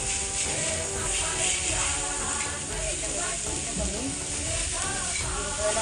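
Jaggery and grated coconut stirred together in a pan for steamed modak filling, giving a continuous soft sizzle with scraping and shuffling of the spoon, steady and close throughout over a faint tonal hum.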